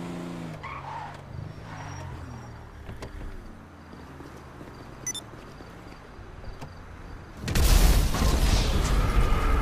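Cars driving in the video game Grand Theft Auto V, with engine rumble and tire skids through most of the stretch, then a sudden loud burst near the end that could be an exploding car.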